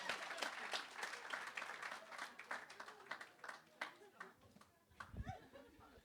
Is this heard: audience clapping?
yes